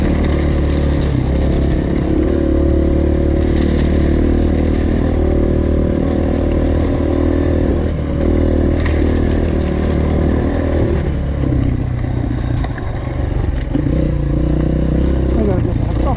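A dirt bike engine drones loud and close on an enduro trail, revving and labouring continuously with rattling clatter as the rider pushes hard, and a voice speaks briefly over it.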